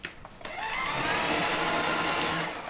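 A Philips SpeedPro Max cordless stick vacuum cleaner spinning up after a couple of clicks, then holding a loud, steady whirring suction drone close by.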